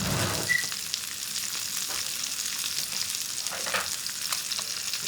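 Ginger and garlic paste frying in a pan, a close, even sizzle with soft stirring and scraping sounds throughout, no voices.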